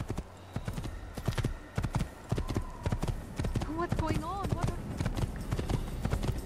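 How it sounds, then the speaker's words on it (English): Horse hooves clip-clop in a steady rhythm in Assassin's Creed, loud and close, with a whinny partway through and someone talking over the hoofbeats. "I'm gonna take this horse if you don't mind."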